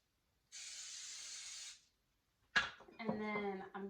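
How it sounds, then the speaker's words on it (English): Cooking spray hisses from a can into a pan in one steady burst of about a second, followed by clattering dishes and a voice speaking close by. "we'll do spray oil first."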